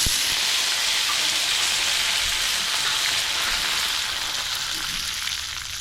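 Curry leaves fry in hot oil with already popped mustard seeds, tempering for a thick chutney. A loud, close, continuous sizzle and hiss runs throughout, tapering slightly at the end.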